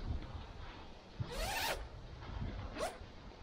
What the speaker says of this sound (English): And the actual zip will go around from the front onto the inside.